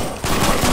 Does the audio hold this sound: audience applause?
no